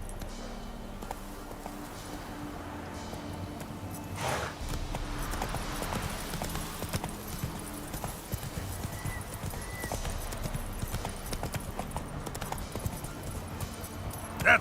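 Geralt's horse Roach from The Witcher 3 trots steadily, the hooves giving a brisk, even clip-clop close by, with faint game ambience underneath.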